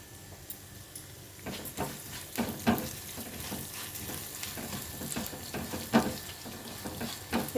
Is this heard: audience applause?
no